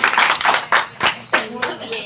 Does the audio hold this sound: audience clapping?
yes